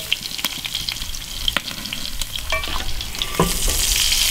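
Shrimp sizzle loudly on a barbecue grill, a constant crackling fry punctuated by sharp clicks and taps close by, with no voices.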